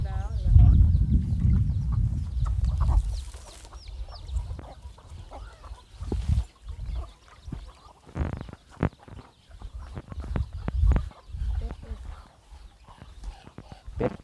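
Chickens clucking on a farm, with scattered short calls and rustling nearby while people talk in Thai over and between the sounds.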